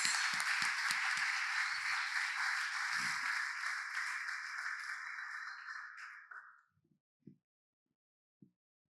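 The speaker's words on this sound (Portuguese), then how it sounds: "Vamos aplaudir nossos atores." Church audience applause, a sustained dense wash of clapping that fades out over several seconds, trailing off into a few scattered claps and then silence.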